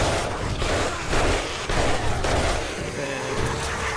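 Gunfire during a zombie fight at a highway overpass base in 7 Days to Die: loud, rapid overlapping shots in ragged bursts, close and sustained throughout, with faint voices underneath.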